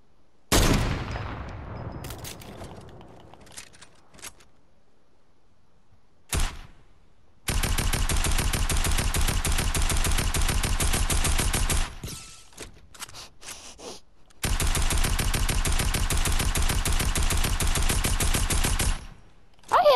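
Gunfire in the video game Rage: a few scattered shots, then two long, loud bursts of rapid automatic fire separated by a short pause.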